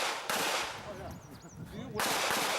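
Pistol shots at an IDPA shooting match, with two loud sharp bursts opening and closing the stretch and a quieter gap between them, set against outdoor range noise.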